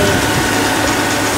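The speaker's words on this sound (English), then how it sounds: "So far the compressor are running nice. Compressor running." A Suzuki Grand Vitara idling with its air-conditioning compressor running after an A/C regas, giving a loud, steady engine drone and hum close to the microphone.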